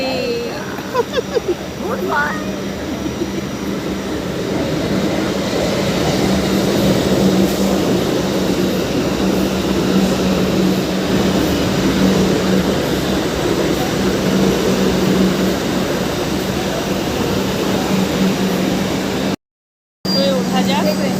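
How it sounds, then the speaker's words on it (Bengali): A metro train pulls into a station with a loud, steady rumble and a sustained mechanical hum that builds and holds for most of the stretch. A person talks over it, and the sound cuts out briefly near the end. "ওই যে আমাদের মেট্রো আসছে"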